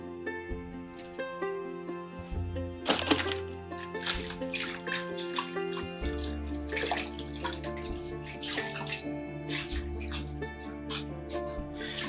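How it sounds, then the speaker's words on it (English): Water sloshes and trickles in a bowl as mushrooms are rinsed by hand, with soft splashes and drips close by, while background music plays steadily throughout. "Give them a little rinse in the water."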